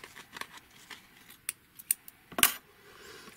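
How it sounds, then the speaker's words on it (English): Scissors snip through book spine material during bookbinding: several short, crisp cuts close by at an uneven pace, the last the loudest, with quiet gaps between. "I'm going to trim that just a little bit"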